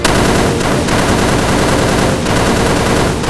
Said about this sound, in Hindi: ऊपर से गोलियां चलानी शुरू कर दी।